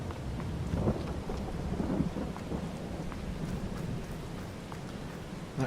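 Rain and rolling thunder in the Farming Simulator 22 game world: a steady hiss of rainfall with low thunder rumbles swelling around the first and second seconds, continuous and moderately loud with no talking.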